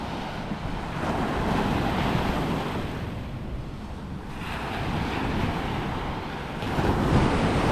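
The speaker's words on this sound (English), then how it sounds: "Tuesday morning on the beach." Waves wash onto a Florida beach at Okaloosa Island on a morning, rolling in a continuous broad surge that swells and eases, mixed with wind buffeting the microphone and no voices.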